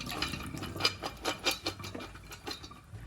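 Freshly washed sorrel drains in water with a near, steady wet patter and splashing, broken by soft clinks of a container, with no one talking.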